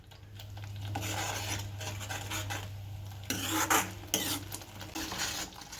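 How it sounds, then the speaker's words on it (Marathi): Masala sautéing in a pan, heard as soft scraping and rubbing strokes of a spoon against the pan, quiet and close, with a low hum running beneath. "आता मी मसाला ना परतून घेते"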